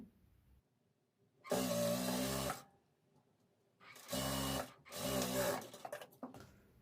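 A sewing machine stitches a sleeve along a marked line, running in three short bursts of whirring with quiet pauses between them.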